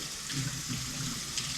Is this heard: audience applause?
no